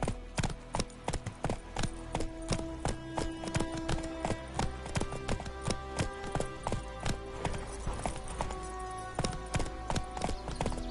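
Horse hooves in The Witcher 3 video game, clip-clopping in a steady, brisk rhythm close up, alone without talk.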